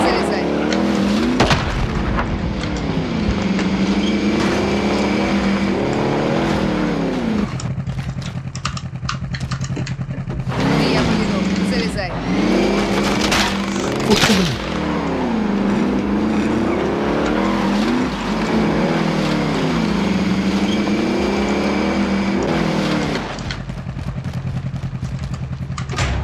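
Vehicle engine in Call of Duty Warzone revving and roaring steadily, with pitch sweeps from accelerating and tire squeals, close and loud throughout, with players talking over it.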